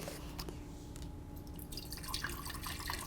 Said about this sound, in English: So I'm gonna put my water in first.